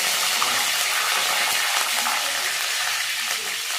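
Urad dal, fenugreek seeds, curry leaves and mustard seeds frying in hot oil, a dense, even sizzle that stays loud and close throughout with no voices.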